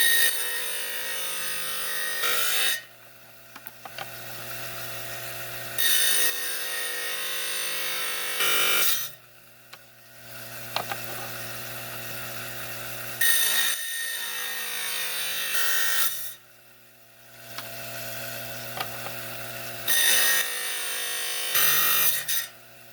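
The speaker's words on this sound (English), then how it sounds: "5-inch trim saw. We're going to trim out this flint." A 5-inch trim saw grinds steadily through a piece of flint in several long cutting passes, a harsh high whine with brief quieter gaps where the blade spins freely between cuts.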